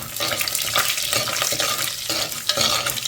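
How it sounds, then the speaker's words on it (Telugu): Tempering spices, including urad dal, chana dal, coriander seeds, cumin and a few fenugreek seeds, sizzle and crackle steadily in hot oil, stirred in a pan close to the microphone, with bursts of scraping from the stirring. "పోపు దినుసులు వేగాయి"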